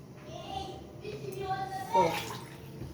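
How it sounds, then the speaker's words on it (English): Water from a glass pours into a sufuria cooking pot in a home kitchen, a brief soft splash and trickle, with people talking quietly nearby. "those are 4 glasses of water"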